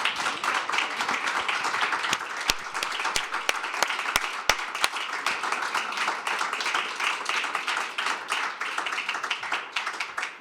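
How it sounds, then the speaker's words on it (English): An audience applauds a panel at a social justice salon, with dense, sustained clapping that starts together and continues steadily for about ten seconds before easing slightly. "Can I get a round of applause for the panel here?"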